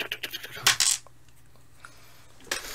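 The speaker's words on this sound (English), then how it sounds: "Dice roll, go!" Dice clatter and tumble across a hard surface in a quick rattling burst during a tabletop game, close and fairly loud, with a faint later knock.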